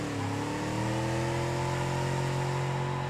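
Pickup truck engine in BeamNG.drive revs steadily, its exhaust drone rising slightly in pitch and then holding a loud, continuous rumble, alone without talk.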